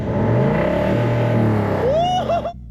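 A $150,000 car's engine revs close by, a loud, sustained roar that climbs in pitch before cutting off abruptly into near silence.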